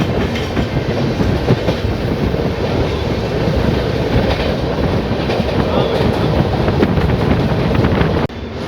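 A passenger train rumbles steadily along the tracks on the Mumbai to Pune line through the Khandala Ghat, with a continuous heavy roar and rhythmic clatter, loud and close, with wind buffeting throughout.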